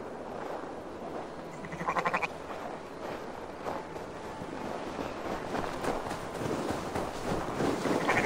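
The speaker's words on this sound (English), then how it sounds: "I don't wanna sacrifice no damn sheep." Sheep bleat in the Viking-era open-world game Assassin's Creed Valhalla, with one clear wavering bleat followed by fainter calls over a steady windy outdoor ambience.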